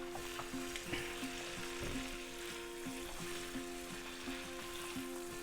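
Garlic frying in a pan, stirred for a seafood fried rice: a continuous crackling sizzle with a faint steady hum and repeated scraping stirs, moderately quiet and close.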